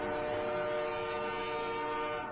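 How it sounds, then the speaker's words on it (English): A westbound BNSF freight train on a Galesburg–Northtown run passes close by, a loud continuous rumble with sustained tonal horn-like drone and wheel noise throughout. "westbound, I believe he said this is a Galesburg Northtown train"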